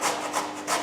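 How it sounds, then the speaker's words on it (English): Carrot scraped across the large holes of a grater on a flat surface, three quick rasping strokes in a steady back-and-forth rhythm, close and fairly loud with no talking. "we're going to use the large hole of the grater, and we're going to grate on a flat surface"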